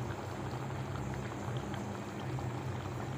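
Sweet and sour mango chutney simmers in a pan, giving a steady, close bubbling hiss with a low hum beneath it and no pauses throughout.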